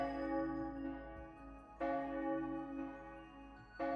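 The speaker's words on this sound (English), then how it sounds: "This is the same bell that summons the demons in the Moon Tower." A large bell rung in the Trails to Azure video game gives three full strikes about two seconds apart, each one bright and ringing, with a long humming sustain that fades between strikes.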